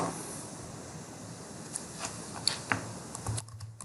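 Keys tapped on a computer keyboard while entering a name in Civil 3D software, a short run of light, irregular clicks over a steady low hum, with no talking.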